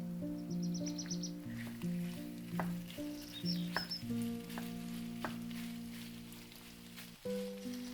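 Chicken fillet sizzles in a frying pan with softened onion, a quiet steady crackle broken by a few faint clinks and stirring sounds, with tonal background music underneath.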